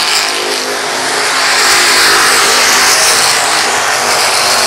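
Race cars at Lakeside Speedway roar steadily around the oval, a loud, continuous blend of several engines at full throttle, rising slightly in intensity as the pack passes, with no talking.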